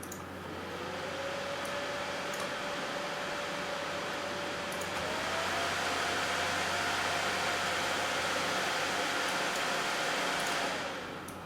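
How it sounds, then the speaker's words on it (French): Cooling fans on a Radeon HD 6870 graphics card whir with a steady broadband rush and a faint tonal whine that steps up slightly in pitch midway, running continuously with no talk. "je vais vous faire écouter maintenant les ventilos"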